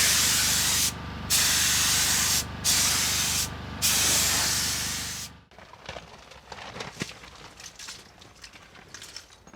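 A spray gun lays another coat of paint on a Series Land Rover during a full restoration: four loud, hissing bursts with short pauses, then quieter scattered handling noises.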